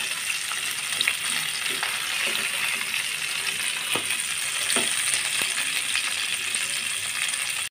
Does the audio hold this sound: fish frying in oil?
yes